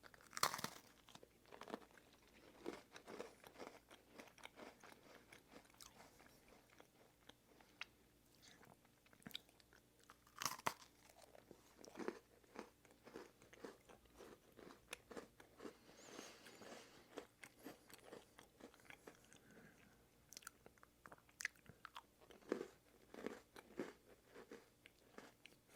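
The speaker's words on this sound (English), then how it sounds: "the crunch of the chocolate cookie is your standard" Raspberry blueberry Oreo chocolate sandwich cookie being bitten and chewed up close, a series of sharp crunches followed by softer irregular mastication and faint crinkling, no talking.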